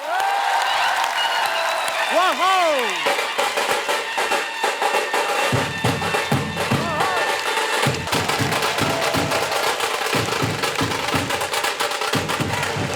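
A television talk-show audience applauds as Riteish Deshmukh and Genelia D'Souza are welcomed in Marathi style: loud, continuous, dense clapping for the whole stretch, with wavering musical tones early on.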